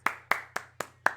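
Five slow, evenly spaced hand claps, close and distinct, given as a round of applause during a live reaction stream, with a low steady hum running underneath.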